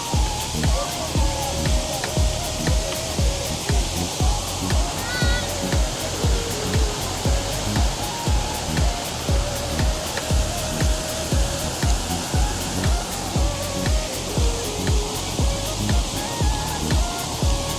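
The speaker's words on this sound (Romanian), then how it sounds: "Jetul de apă crește din ce în ce mai tare și se tot schimbă modelul." Steady rushing spray of a fountain water jet, loud and continuous, with a rapid regular pulsing throughout as the jet surges and grows stronger.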